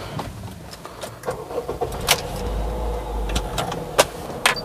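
A Honda Freed automatic seven-seat MPV starts for a test drive: a low engine rumble swells in the middle amid small cabin clicks and rustles, heard close from inside the car with no talking.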